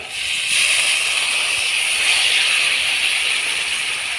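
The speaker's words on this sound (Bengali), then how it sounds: "এখন আমি লঙ্কা বাটার আর সর্ষে বাটার জল আমি দিয়ে দিচ্ছি" Chili and mustard paste water poured into a hot curry of fish in mustard gravy, giving a steady loud hiss and steam that swells after a moment and holds evenly throughout, with no voice over it.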